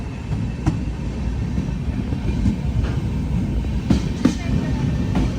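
An LHB passenger coach of Konkan Railway runs between Madgaon and Sawantwadi Road with a steady, dense rumble. Occasional sharp clicks and knocks break through at irregular moments.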